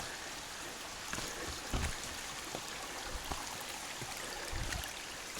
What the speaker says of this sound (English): came to a little creek crossing here